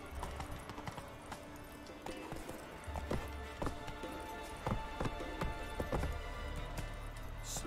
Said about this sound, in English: That damn horse.